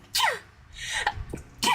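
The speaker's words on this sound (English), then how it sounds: "I gotta sneeze." A person sneezes loudly and close to the microphone, with a sharp burst near the start, a softer sneeze-like gasp in the middle and another forceful sneeze at the end.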